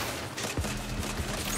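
Sniper fire during a mission in the video game Saints Row (2022): a few sharp gunshot cracks spaced under a second apart, set against a low, busy game background.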